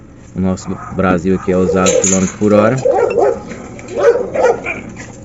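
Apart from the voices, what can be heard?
dog barking in the street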